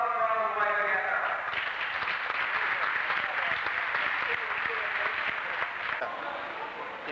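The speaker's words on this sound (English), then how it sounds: "Let's have a round of applause" An audience applauds at a 16mm film screening night, a fairly soft, continuous patter of many hands that fades slightly toward the end, heard at some distance in the room.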